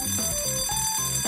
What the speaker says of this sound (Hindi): घंटी बज गई, क्लास में जाना होगा।